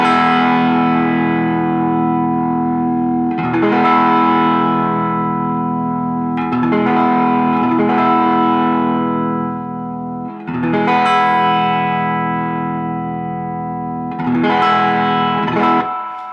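Fuzzy, saturated electric guitar through a germanium Fuzz Face pedal, notes struck one at a time with long sustain, each ringing out and decaying before the next.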